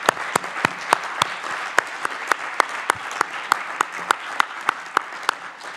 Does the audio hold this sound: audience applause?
yes